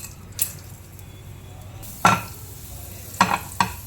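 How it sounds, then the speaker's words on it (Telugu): Chana dal goes into hot oil as the first step of a tempering for raw mango pulihora, making a soft background sizzle broken by a few sharp clattering scrapes of stirring, near and without talk. "ఫస్ట్ శనగపప్పు వేస్తున్నాను"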